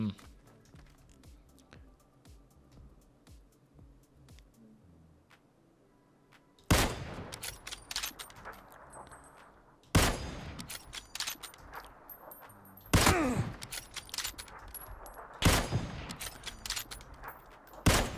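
Quiet at first, then several sharp gunshot bursts ring out close by in PUBG, separated by short pauses and mixed with clattering noises, with a voice talking underneath.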